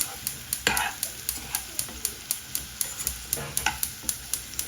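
Tomato rice mixture stirred and fried in oil in a pan, regular scraping strokes of a spoon roughly every quarter second over a steady sizzle, close and clear with no talking.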